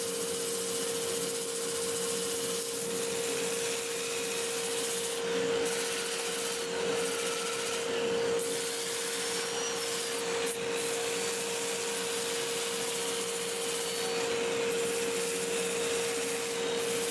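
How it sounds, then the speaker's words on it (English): A dust collector's steady machine roar with a constant hum runs throughout, overlaid by a continuous rasping, rubbing sound of sanding a turned wooden bowl. "My dust collector is over here, and I'll turn it on in a second, and we'll do some sanding."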